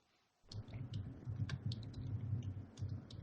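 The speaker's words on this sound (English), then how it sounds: "I'm not gonna be typing exactly that" Close, steady typing on a computer keyboard, with rapid clicking keystrokes starting abruptly and continuing without pause, no voices.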